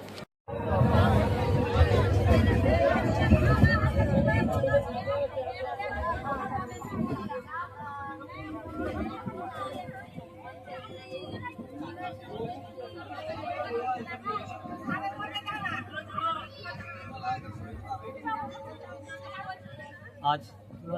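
Crowd chatter fills a train carriage bound for Bakkhali from Jaynagar, a steady babble of many voices, loudest and densest in the first few seconds, then settling into a continuous murmur with a low rumble underneath.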